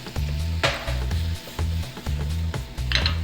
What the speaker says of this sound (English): we're going to saute all the veggies like that